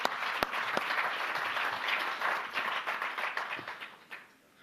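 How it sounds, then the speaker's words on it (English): An audience claps to congratulate an airline executive at a business press event, a dense round of applause that holds steady before thinning and fading out near the end. "please share a round of applause for that"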